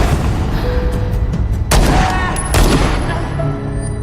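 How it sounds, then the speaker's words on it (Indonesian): Several loud gunshots ring out in a film scene from Bela Luna (2022), two sharp cracking blasts about a second apart that echo and trail off over a dense, noisy background. "Diego tewas di tempat akibat tembakan beberapa kali."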